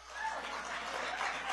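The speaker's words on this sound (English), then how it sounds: "And you can applaud that." Applause from a conference audience at a policy event in Washington, a steady dense wash of clapping held at even loudness for the full stretch with no pauses.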